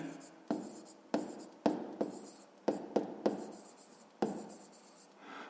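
A pen scratches across paper in quick, irregular strokes while a maths exercise is being written out by hand, close and fairly quiet.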